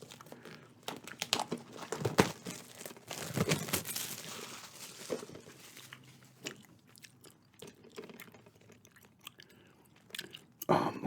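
Tight shrink-wrapped plastic on a gum package crinkling and tearing in close, irregular bursts of crackle and rip, with some quieter pauses between attempts.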